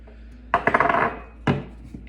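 An egg being added to cake batter in a mixing bowl for an Irish gur cake: a sharp clink against the bowl, then a quick rattle of hard taps, and a second clink a moment later, all close and distinct.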